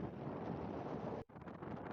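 Strong, steady wind buffets the microphone at a seaside harbour near the new Pamban railway bridge, a loud broadband roar that drops out briefly partway through before surging back.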